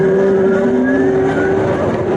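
A Zero DS electric motorcycle in sport mode accelerates with a loud, steady electric motor whine that rises slightly in pitch, over heavy rushing road and wind noise, heard up close from the rider's position.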